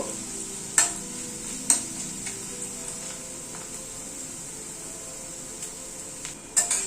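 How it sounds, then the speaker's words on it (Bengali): Crushed garlic cloves frying with onion in a pan, a low steady sizzle broken by a few sharp spatula scrapes and clacks, close and alone with no talking. "রসুনটা দিয়ে আবার একটু মিনিট খানেক ভেজে নিলাম"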